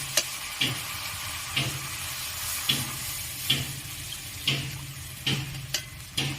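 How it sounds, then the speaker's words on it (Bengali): Water added to a pan of simmering shukto vegetables, a soft hissing sizzle with repeated sharp splashes and clinks roughly every second, close and without talk. "এবারে আমি একটু পরিমাণ মতো জল দিয়ে দেব।"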